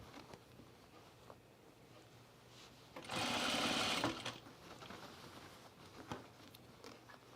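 A home sewing machine stitches pants fabric in short spurts, giving one clear whirring burst of about a second amid quiet, faint handling noises.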